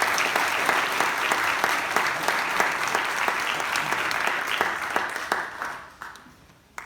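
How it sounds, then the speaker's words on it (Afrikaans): A church congregation at an Easter programme claps for performers, steady dense applause filling most of the stretch before it thins and fades out near the end. "Kom ons gee vir hulle lekker hande klap."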